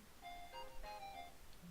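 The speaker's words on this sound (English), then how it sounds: "Male ringtone." A phone ringtone in the video game Steins;Gate plays a short electronic melody of clear sustained tones, fairly faint and without voices.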